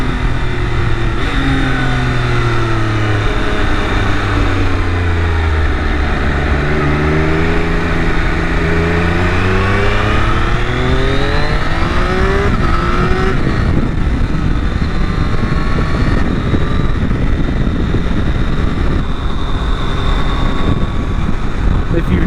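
A Triumph Daytona with a Moto2-derived triple engine revs hard and loud, harmonic tones sweeping down and back up through the gears before easing into a steady roar, close and continuous for over twenty seconds.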